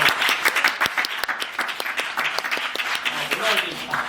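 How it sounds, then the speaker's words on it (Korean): Audience applause during a stage greeting for a theatre production, a lively mix of many hands and sharp individual claps running for about four seconds, with voices chattering and calling out over it. "박수 한번 부탁드릴게요"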